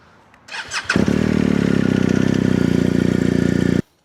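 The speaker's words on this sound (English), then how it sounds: "going to run the bike, get it to temperature, then turn it off" A BMW R 1250 GS Adventure motorcycle engine cranks with a few short bursts, catches and runs with a loud steady close-up idle for several seconds, then cuts off abruptly.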